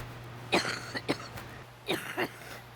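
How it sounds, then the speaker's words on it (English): Two clusters of short, harsh coughs, close by, separated by a brief pause over a low steady hum. "Those coughs likely won't get better anytime soon."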